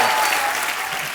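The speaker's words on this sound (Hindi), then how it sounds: "एक बार हंस बाजी के लिए, नवराज के लिए जोरदार तालियां।" Loud studio audience applause on a comedy talk show welcoming guests, a dense, steady burst of clapping that fills the brief moment and fades slightly at the end.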